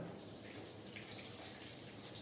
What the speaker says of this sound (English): Now I am filling vessel with water.